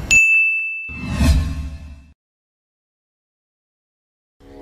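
A bright bell-style notification ding rings out sharply and sustains, followed by a soft swoosh, then silence before another sound begins at the very end.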